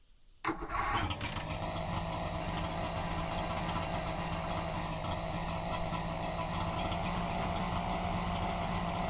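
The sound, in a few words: two-stroke engine running in The Long Drive video game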